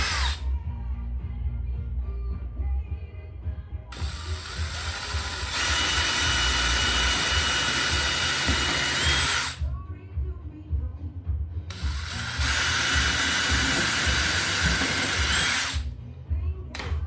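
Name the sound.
power drill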